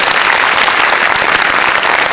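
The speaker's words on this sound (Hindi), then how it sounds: "जोरदार तालियों से" Loud, dense clapping fills the room at a Brahma Kumaris New Year gathering, a continuous wash of many hands honouring a regional leader's birthday.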